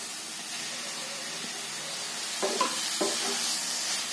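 Blended chicken mince sizzles softly in a pan with a steady hiss, and a few brief scrapes and taps of a spatula come through near the end.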